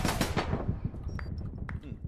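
Gunfire erupts in the online shooter APB: Reloaded, with a few loud, rapid reports up close that quickly fade into scattered fainter shots and game effects.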